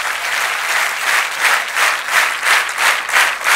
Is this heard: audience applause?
yes